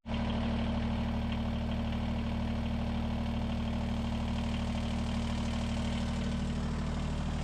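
A Kubota BX23S tractor engine runs at a steady idle, a loud, even low-pitched rumble with a slight knocking beat that continues throughout with no voices.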